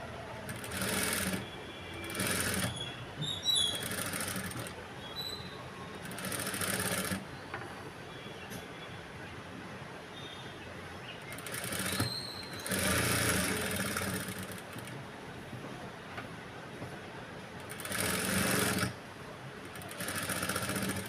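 A sewing machine stitches boat neck blouse cloth in repeated bursts of fast whirring, separated by quieter pauses with faint fabric handling, close and steady.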